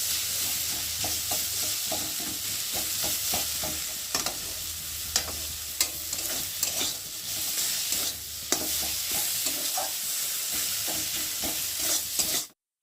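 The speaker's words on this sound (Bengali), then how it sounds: "মশলাটা খুব ভালো করে ভেজে নেব, যতক্ষণ না মশলাটা কাঁচা গন্ধ যাবে ততক্ষণ মশলাটা আমি কষাতেই থাকবো" Spice paste sizzling in a pan for egg curry while a spatula stirs it, with repeated scraping strokes and sharp clicks over a steady fry hiss that cuts off abruptly at the end.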